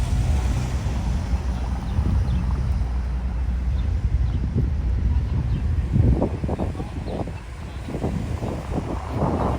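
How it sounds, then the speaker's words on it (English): Steady wind buffets the microphone beside a waterfront in Barrie, a constant low roar with a faint rumble of water and a brief voice underneath. "Man, it's a little windy."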